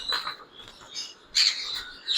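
Pineapple conure and yellow-sided conure call in a pet shop with short, bright, chirping squawks in quick bursts. The calls are loud and close, with louder screeches near the end.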